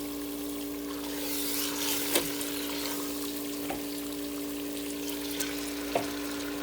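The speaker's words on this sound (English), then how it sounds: "So you can see that my jollof stew is dry. So I'm adding my chicken." Chicken pieces fry in a thick, dry jollof stew, giving a steady, soft sizzle with a few sharp crackles and pops, close by and without speech.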